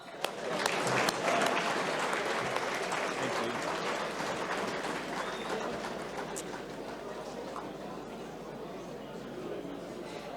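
Sustained audience applause at a football awards gala night, a dense, steady roar of many hands clapping that fades slowly over about ten seconds, with some crowd chatter mixed in.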